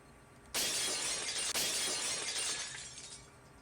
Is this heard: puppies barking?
no